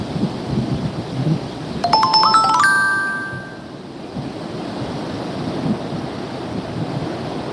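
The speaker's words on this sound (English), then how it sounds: "Let you guys just enjoy these waves" Ocean waves wash in a steady, loud roar of surf with some wind buffeting the microphone, and a short run of bright chime-like tones rises and fades partway through.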